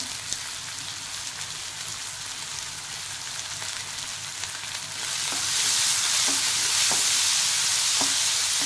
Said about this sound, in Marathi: कांदा परतून घेऊया चांगला।